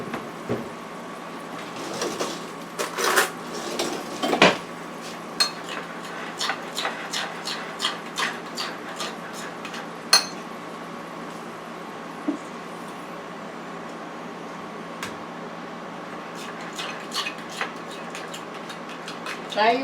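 Red honey sauce is mixed in a bowl, a steady run of light clicks and taps as the utensil strikes the sides, close and fairly quiet with a faint background hum.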